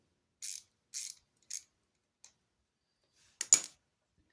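A Briggs & Stratton carburetor fuel pump, leaking, being taken apart: a handful of sparse, crisp clicks and small metallic snaps spread out over near silence.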